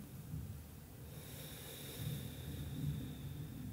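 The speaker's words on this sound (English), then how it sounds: "Breathe in through your nose." A slow nasal inhale, a soft rushing breath drawn in through the nose during a guided meditation, steady and close with faint room hiss and no talking.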